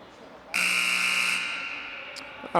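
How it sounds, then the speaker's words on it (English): A loud, steady electronic horn in a college hockey arena blares for about a second and a half after a short quiet start, then cuts off, leaving faint crowd noise and a brief tone near the end. "there's the buzzer to wrap things up and get it back onto the ice"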